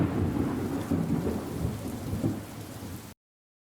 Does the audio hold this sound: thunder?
yes